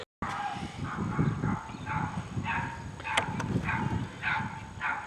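Dogs bark repeatedly in the distance, a series of short yapping barks over a steady outdoor background hum.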